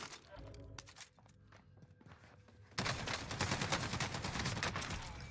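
Warzone gameplay gunfire: sparse shots and game noise first, then a sustained loud burst of rapid automatic fire that fills the second half.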